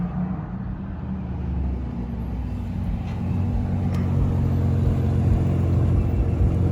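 A manual-swapped Nissan Maxima on a Florida street rolls in with a low engine rumble that grows steadily louder as it approaches, heard close with no talking.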